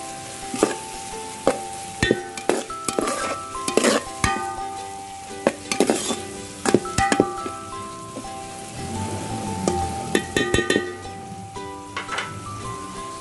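Onion, ginger and garlic sauté in a pan as the base for chicken tinola, with a steady sizzle broken by repeated scraping stirs and clinks of a utensil; no talk is heard.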